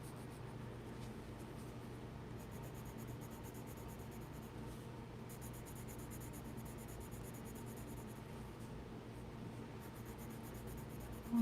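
Pencil scratching steadily across paper while sketching, a continuous close, soft rasp that runs unbroken throughout over a faint hiss, with no voices.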